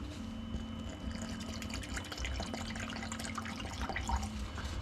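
Water pours steadily into a plaster mix for rock castings, a continuous close splashing and trickling with a few small bright drips on top, no talking.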